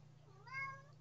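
A cat gives a single clear meow, rising and falling, over a steady low hum in a quiet room.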